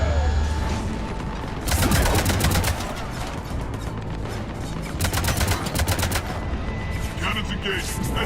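Ship cannons fire in the video game Mass Effect 3, heard as loud, rapid volleys of sharp blasts in two main bursts over a steady background of game noise.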